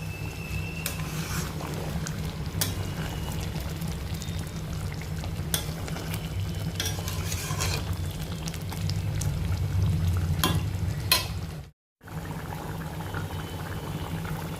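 Butter chicken gravy with fried chicken being stirred in a pan, a steady bubbling simmer with soft scraping of the spoon, close and continuous, with a brief dropout near the end.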